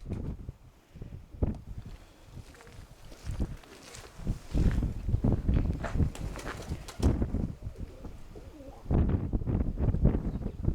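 Pigeons coo around a loft during a flock training session, a steady run of soft low calls overlapping one another at close range, with occasional rustling and wing movement.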